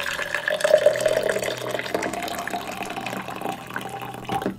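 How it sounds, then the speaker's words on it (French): Boiling water pours steadily into a chemical solution for a clock reaction, a continuous close splashing and filling sound that runs for several seconds. "dans la solution B, on va mettre 200 ml d'eau bouillante"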